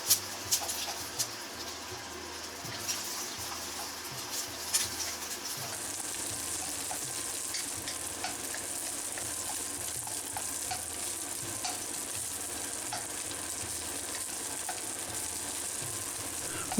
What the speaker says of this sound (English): Add the beaten egg and sort of scramble it into smallish pieces as shown